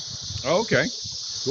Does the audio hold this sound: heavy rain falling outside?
no